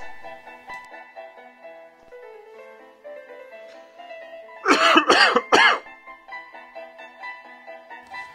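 A short burst of three sharp coughs stands out near the middle, loud and close, over a quiet background of faint musical tones.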